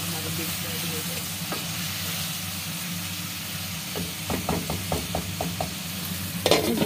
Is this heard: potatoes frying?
yes